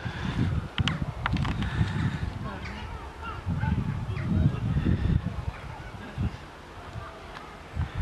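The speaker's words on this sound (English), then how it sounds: "See the birds." Geese honking repeatedly at a seaside holiday spot in Tenby, a busy mix of calls with people talking and children's voices throughout.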